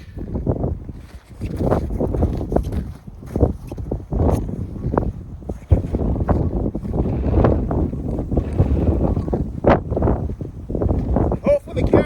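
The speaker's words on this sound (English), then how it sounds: "As you can see, it's quite windy." Strong gusting wind buffets the microphone while a tent is taken down on a mountain campsite, a loud continuous roar with flapping surges throughout.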